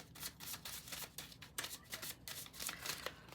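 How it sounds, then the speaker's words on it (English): A deck of cards is shuffled at length during a reading, giving repeated riffling, flapping bursts close by with no one speaking. "We've got a long shuffle going on, you guys."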